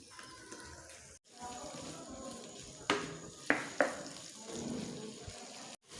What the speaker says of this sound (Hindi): अब हम इसमें आधा गिलास पानी का शामिल कर देंगे